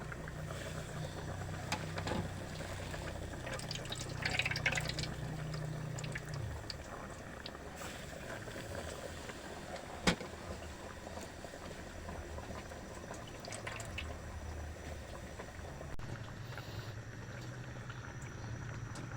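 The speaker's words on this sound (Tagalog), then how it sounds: "kumukulo na po yung ating munggo" Mung bean soup with squash blossoms and fish simmering in a pot, giving a soft, steady bubbling under faint kitchen background noise, with no voices.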